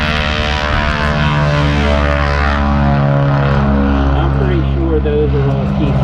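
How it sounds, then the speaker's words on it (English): A North American T-6 warbird flies by at the EAA AirVenture airshow, its loud propeller engine droning steadily with a harmonic whine that shifts in pitch as it passes, with voices heard beneath. "those are all T6s made to look like Jap Zeros"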